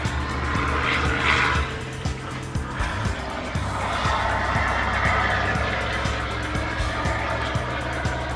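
A Miller EnPak air compressor runs with a steady mechanical drone and periodic low knocks, loud and continuous throughout.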